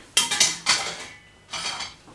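A frying pan and dishes are washed up after a vegetable curry and roti meal, with three sharp clattering bursts of metal and crockery knocking together at close range, and no voices.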